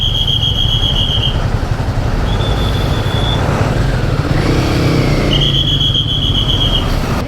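A vehicle squeezes past on a narrow mountain road near Kinnaur Gate in the Spiti Valley: a loud, close engine rumble with intermittent high squealing tones that cut in and out.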